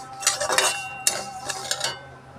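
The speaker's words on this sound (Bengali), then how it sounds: "ডালিয়াটা নেড়ে চেড়ে একটু লাল করে ভেজে নিই।" Broken wheat is dry-roasted and stirred in a wok, giving a few bright metallic scrapes and clinks of a spoon against the pan in quick clusters, close and clear with no speech.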